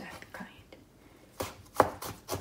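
A kitchen knife chops through carrot and potato on a cutting board, several crisp broadband chops that grow louder and more closely spaced toward the end, with no talk.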